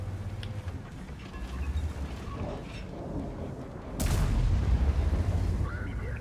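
A tank cannon fires in World of Tanks, the self-propelled gun Grille 15 booming with a sudden broadband blast that rolls into a rumbling tail over the battlefield's ambient noise.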